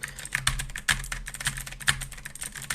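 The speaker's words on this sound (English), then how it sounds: "make sure to add in some typewriter clacking" Typewriter clacking added as a sound effect: a rapid, uneven run of sharp key strikes with a few heavier thumps, close and crisp, with no voices.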